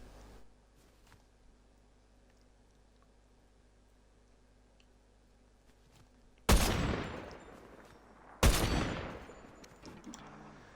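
Two loud, heavily clipped sniper rifle shots in a video game, spaced about two seconds apart, each with a booming decaying tail, after several seconds of quiet.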